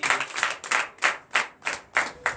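Congregation clapping in rhythm during a church service, about six evenly spaced bursts of applause, fairly close and clear with no talking over it.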